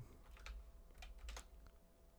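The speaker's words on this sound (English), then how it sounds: "I'll just type in under-19." Soft, close keystrokes tap on a computer keyboard while entering a search during a football management game, a quick irregular run of clicks at low volume.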